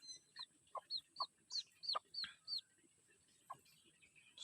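Labuyo jungle fowl chickens giving a series of short, clear clucks and chirpy calls, about ten in a quick irregular run, fairly faint and close in a quiet setting.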